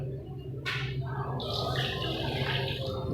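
Water is poured from a glass over rice in a pressure cooker while making chicken biryani, a steady splashing rush lasting a few seconds, close and fairly loud.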